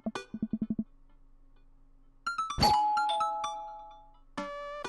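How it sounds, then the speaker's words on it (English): A doorbell chimes in the video game Dream Daddy: several bright, ringing tones sound alone, sustain and slowly fade, then one more tone strikes near the end, with no talking. "the doorbell rings."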